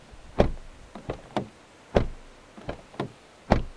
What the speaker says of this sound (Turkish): Tok bir kapı sesi.